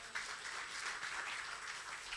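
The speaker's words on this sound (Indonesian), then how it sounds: "Tepuk tangan bagi Allah kita." A church congregation at a Sunday worship service applauds, dense crowd clapping that is fairly faint and even throughout, with no other sounds standing out.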